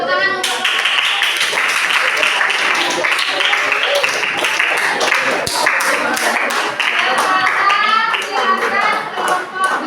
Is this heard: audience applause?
yes